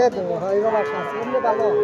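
A cow lows at a cattle market before Eid, with drawn-out harmonic moos close by over a busy background and overlapping crowd chatter.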